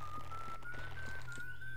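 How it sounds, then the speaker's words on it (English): A video game character's steady, sustained whistled tone slowly rises in pitch, heard alone over a low background hum. "I'm going to listen to Sam whistling."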